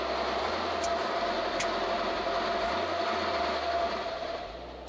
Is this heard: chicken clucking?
no